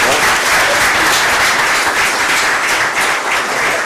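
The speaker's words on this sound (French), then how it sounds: "Je pense qu'il mérite des applaudissements jusqu'à sa place quand même." An audience at an official ceremony in Côte d'Ivoire claps continuously and loudly as an honoured guest returns to his seat, steady applause throughout.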